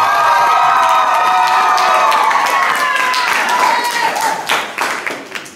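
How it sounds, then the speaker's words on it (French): A school graduation audience applauds and cheers for the teachers, loud clapping mixed with shouts and children's voices that fades out unevenly toward the end. "on peut les applaudir"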